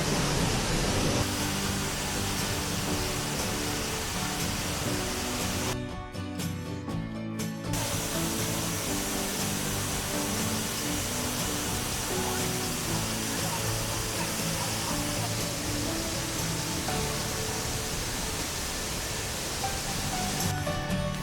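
Waterfall at the bottom of a falls in Cuyahoga Valley National Park, Ohio, seen from a boardwalk set into a rock cliff: a loud, steady roar of rushing water fills the whole stretch without a break.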